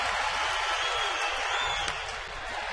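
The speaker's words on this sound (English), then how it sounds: "This crowd already into it here in the first." A large baseball stadium crowd roars steadily in the first inning, a dense continuous wash of cheering and noise filling the park without letup.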